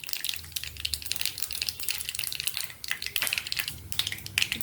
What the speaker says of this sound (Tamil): இப்போ கடுகு வெடிச்சிடுச்சுங்க.